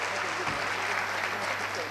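An audience at a radio station's first-anniversary event breaks into applause, a dense, even wash of clapping heard close and fairly loud, briefly overlapping with a voice.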